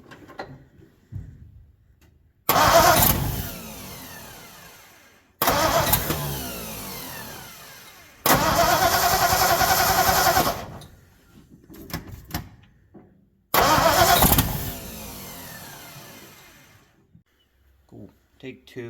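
A 1959 Ford F-100 4x4 pickup being cranked over, fed from a gas can after sitting for 30 years: four loud, sustained bursts of starter grinding a few seconds each, separated by quiet gaps with faint voices and clicks, no firing.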